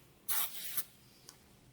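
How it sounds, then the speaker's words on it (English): A short, light burst of non-stick cooking spray hits a quesadilla maker, a close hiss lasting about half a second, then a brief faint follow-up puff, with no talking. "I always like to just do a light spray with my non-stick"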